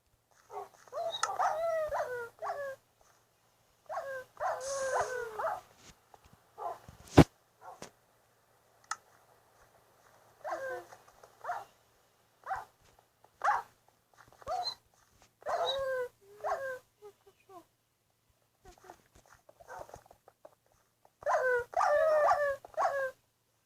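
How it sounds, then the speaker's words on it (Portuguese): Minecraft dogs whimper and yelp again and again as they die in lava, in clusters of short, high, wavering cries scattered across the stretch. A sharp click or hit cuts in partway through, and the background is otherwise quiet. "Os cachorrinhos morreram todos por causa dessa lava que eu fui botar."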